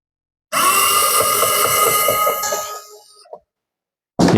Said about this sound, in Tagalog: Gagamitin natin itong cordless na screwdriver.